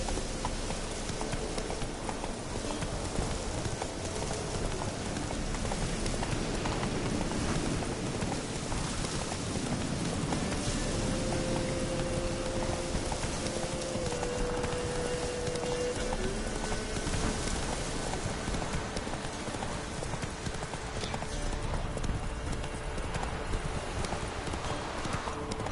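A horse gallops in The Witcher 3 with fast, continuous clip-clop hoofbeats, close and steady, over a rain-like hiss of open-world ambience.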